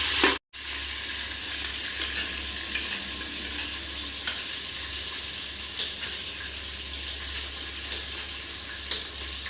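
Mustard seeds and two dried red chillies spluttering in hot oil, a steady dense crackle with scattered sharper pops, close and continuous with no talking.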